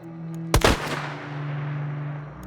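A single heavy gunshot from a classic manual-action firearm in the video game Hunt: Showdown, a sharp loud blast with a rolling echo that fades over a steady low hum.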